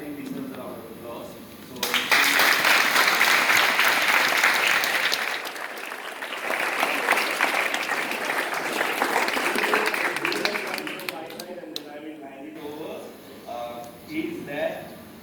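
Audience at an inter-house drama competition awards ceremony breaks into loud, sustained applause that swells after a couple of seconds and holds steady before tapering off, with some voices mixed in.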